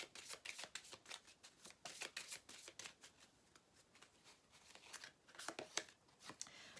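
Tarot cards being shuffled in a quiet room, a run of crisp riffling bursts and soft flicks that come and go at close range, with no voices.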